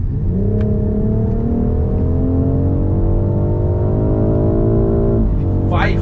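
A BMW X3 M50's six-cylinder engine revs in sport driving mode, a loud steady rising drone climbing gradually in pitch for several seconds before dropping, with a voice briefly heard near the end.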